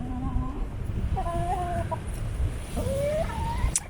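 Chickens cluck nearby in a few short, rising calls, with a low background rumble and no talking.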